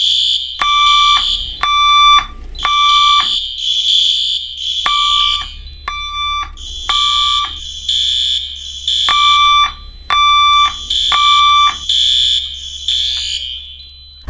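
A Roblox fire alarm repeats loud pulsing electronic tones in steady groups of beeps, with a constant low hum underneath and no talking.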